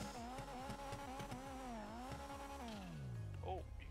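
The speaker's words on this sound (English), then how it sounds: "You guys heard that turbo?" A modded Honda Civic EG's turbo engine revving in Grand Theft Auto V, with rising and falling pitch and rapid pulsing, then winding down toward the end; moderately quiet and mechanical.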